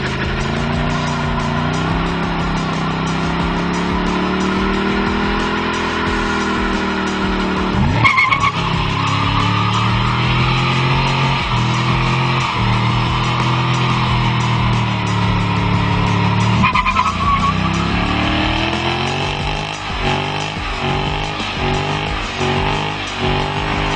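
Tires squeal and skid continuously in a burnout under a revving car engine, the screech rising and falling through repeated bursts of throttle.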